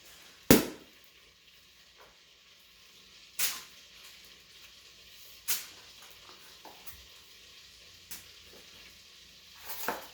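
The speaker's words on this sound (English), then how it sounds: "You can hear that butter starting to boil up a little bit." Butter starts to boil in a pan on the stove, making a faint, quiet sizzle broken by a few sharp, scattered pops several seconds apart.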